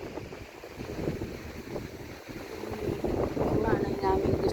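Wind buffets the microphone at a seaside boardwalk in Sabang, Cabugao, producing a continuous low, rough rumble that grows stronger toward the end. Faint voices may sit beneath the gusts.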